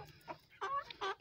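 Free-range chickens let out a few short clucks close by, fairly faint against a quiet farmyard background.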